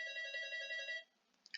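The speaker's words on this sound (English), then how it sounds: "Let's ignore the door ringing." An electronic doorbell chime rings steadily for about a second with bright, sustained harmonic tones, then cuts off, leaving quiet room tone with a few faint clicks.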